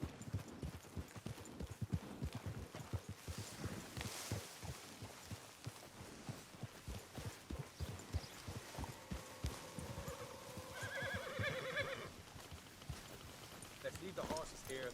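Horse hooves trot in a steady clip-clop rhythm in the video game Red Dead Redemption 2, quiet and somewhat distant, with brief voices and a faint tonal sound near the end.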